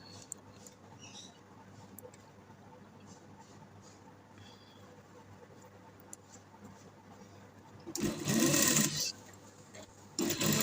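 Sewing machine stitching the cloth of a round neck design, a steady mechanical whir that swells loud and close near the end after quieter handling sounds.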